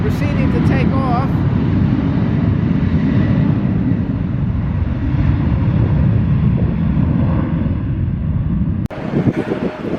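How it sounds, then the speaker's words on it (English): A plane taking off at LaGuardia Airport in New York roars steadily with heavy wind buffeting on the microphone, loud and continuous for most of the stretch before a sudden cut. "we see another plane proceeding to take off"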